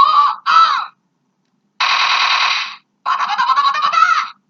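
A DX Toripter toy from Go-Onger speaks electronic voice sound effects through its small speaker, triggered by its side gun pods: two short chirpy bursts, a pause, then a longer buzzing tone and a warbling phrase, loud and close with no one talking.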